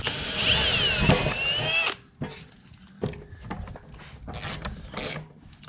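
A power drill drives a screw into a wooden shelf piece in a camper shell, whining loudly for about two seconds before stopping, followed by scattered knocks and handling sounds of tools and wood.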